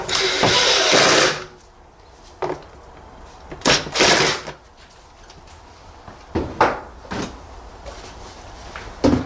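Screws on the air filter housing of a 2014 Renault Clio 1.2 16v are driven tight with a power tool: a long whirring burst, then several short spaced buzzes and clicks, close and fairly loud, with no speech.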